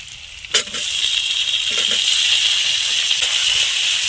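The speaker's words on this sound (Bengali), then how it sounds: "আর একটা গোটা তেজপাতা দিয়েছি আর একটু গোটা জিরে দিয়ে একটু ভালো করে নাড়ি চাড়িয়ে নিচ্ছি বেশ ভাজা ভাজা হয়ে গেছে" Onion frying in a pan with a whole bay leaf and cumin seeds, a steady close sizzle with a brief stirring clatter near the start and soft scraping as it is turned.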